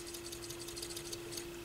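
Technics SL-B202 turntable motor with a failing, serviced-needing condition spinning weakly, giving a faint steady hum with a soft irregular mechanical ticking and noisy rattle, heard alone and quiet.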